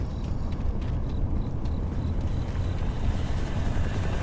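Helicopter in the video game Kane & Lynch 2, a dense continuous rotor roar with rapid chopping pulses, loud and steady throughout.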